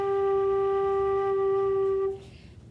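A flute holds a steady, clear second-line G that is pitched too low for about two seconds, then stops, leaving brief quiet room tone.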